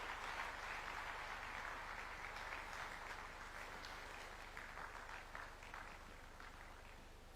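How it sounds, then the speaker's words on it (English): Large audience applauding the President of Kenya at the KICC during the Africa Urban Forum, sustained even clapping from a big hall crowd, steady and moderately distant, gradually easing in loudness. "Another big round of applause for His Excellency."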